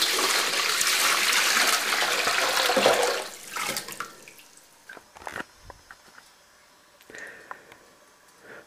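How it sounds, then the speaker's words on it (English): Warm water, a gallon of it, pours steadily into a bowl for about three seconds in a loud broad wash, then tapers off into scattered drips, splashes and small handling clunks. "This is 1 gallon of warm water going into the bowl."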